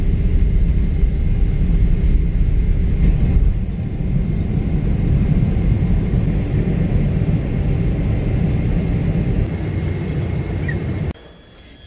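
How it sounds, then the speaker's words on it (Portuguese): Steady loud broadband roar of an airliner cabin in flight, a constant low rumble and whoosh throughout that drops sharply in level near the end. "Já tô aqui no avião."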